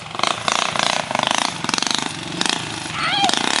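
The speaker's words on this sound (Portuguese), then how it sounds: "Aquecendo as motos." Small motorcycle engines warming up, revving and idling close by, a buzzing, pulsing drone that rises and falls with a few shouted voices.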